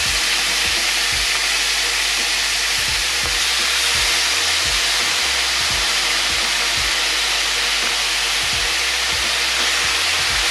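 Teriyaki beef sizzles and fries loudly in a hot pan, a dense, steady crackling hiss with occasional low knocks and scrapes as the meat is shaken around, with no talking.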